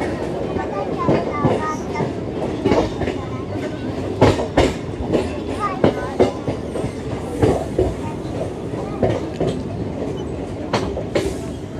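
Patna–Gaya passenger train running on the rails, a rhythmic clickety-clack of wheels over rail joints with a constant rumble, heard from on board.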